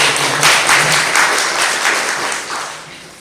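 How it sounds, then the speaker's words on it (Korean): Audience at a meeting applauds steadily, a dense wash of many hands clapping that fades gradually toward the end, with no talking over it. "다시 한번 이 주제를 준비해 주신 우리 이진영 박사님에게 박수 한번 보내드리고"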